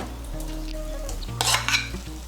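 Fried paneer is tipped into sizzling spinach paste with garam masala and stirred, a close, brief sizzle with a low hum, then a sharp burst of frying hiss and scraping stirs near the end.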